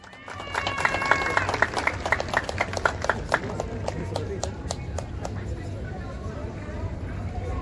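A crowd applauds a band orchestra at a band contest in Huaraz, with steady rhythmic clapping that swells early and then holds at a moderate level.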